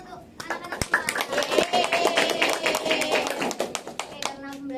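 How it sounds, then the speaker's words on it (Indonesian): A class of young children clapping their hands together during a primary-school lesson, a dense stretch of overlapping claps with a voice speaking over it. "Kita tepuk tangan untuk anak-anak semua"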